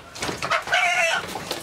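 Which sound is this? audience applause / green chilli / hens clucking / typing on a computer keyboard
hens clucking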